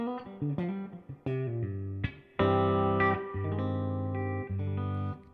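An electric guitar is played through distortion and chorus effects, a few plucked notes and short phrases leading into loud, sustained ringing chords that cut off and restart, close and clear with no talking.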